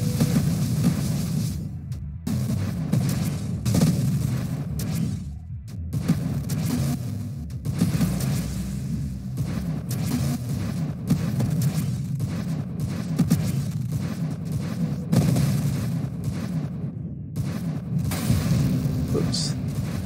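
A turret in the space shooter Nova Drift fires repeated heavy booming blasts in an irregular stream, loud and close, with brief gaps and a voice talking over the barrage.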